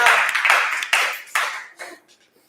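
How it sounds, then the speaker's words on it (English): Brief burst of audience clapping at a fall album release livestream, a few sharp claps that quickly thin out and fade to near silence within two seconds. "Big round of applause."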